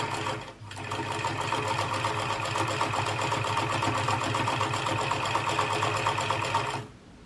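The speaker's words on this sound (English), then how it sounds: "I'm just going to sew round the whole hem of the hat here" Domestic sewing machine zigzag stitching around the hem of a handmade baby hat, a steady rapid mechanical whirr with a brief pause near the start, running close and continuous for several seconds before stopping.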